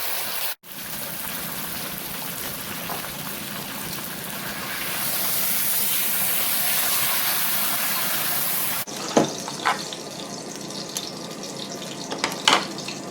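A beef roast sears in a pan with a steady, loud sizzle that swells in the middle before a clatter cuts it off, followed by quieter crackling and a few knocks.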